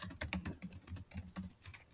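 Rapid keystrokes on a computer keyboard, a dense run of close, crisp clicks and taps at an irregular rhythm, with no voices.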